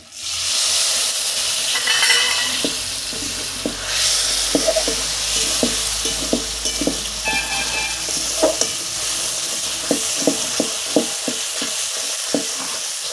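Spice paste for a Bengali-style duck curry sizzles and fries steadily in a pan, with a continuous hiss broken by repeated sharp scraping and stirring clicks from a spoon, close and fairly loud, no talking.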